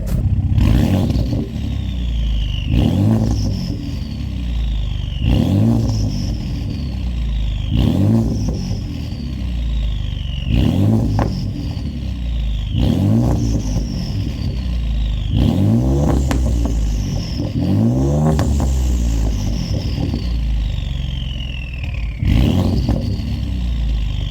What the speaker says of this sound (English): Sounds like a turbo diesel.